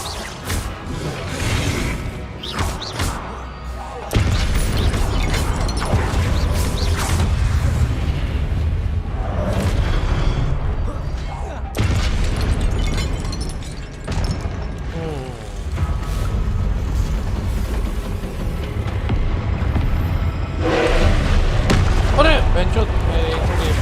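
Confringo fire spell exploding in Hogwarts Legacy combat, loud repeated booms and whooshing blasts layered over continuous battle noise, with a person talking throughout.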